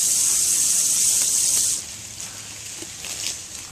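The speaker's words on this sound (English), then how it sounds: "Shoot the water about 30 feet up in the trees." A Dankoff Flowlight booster pump on a solar-powered off-grid water system shoots water high into trees, giving a loud steady hissing spray that cuts off abruptly, leaving faint dripping and patter.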